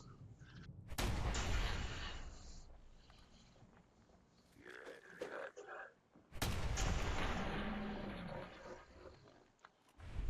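Gunfire in the video game Fallout 4 during a fight with feral ghouls, two heavy booming blasts with long rumbling tails separated by a quieter stretch of rough growling sounds.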